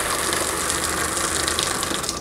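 Water gushes hard from the drain of a Jayco Jay Flight travel trailer, a loud, continuous hissing rush that blasts steadily close to the microphone, with no voices.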